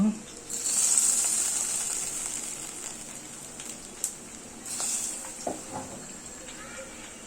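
Onions fry in oil with a soft, crackling sizzle that fades in and out, fairly quiet and close, with a few light clinks of cookware; no talking.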